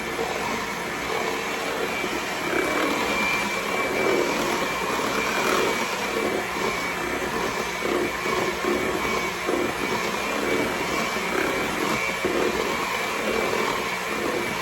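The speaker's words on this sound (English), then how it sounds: "I just don't bother using this mixer to do those carrots." An electric hand mixer whips cooked carrots for a carrot soufflé, giving off a steady, loud motor whir that runs without a break the whole time, with no talking.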